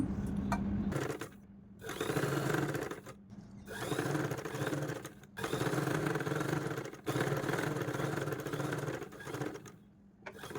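A sewing machine stitches the back part of a dress with a half-inch seam, running in a steady, close motor whir for a couple of seconds at a time, with short pauses between runs.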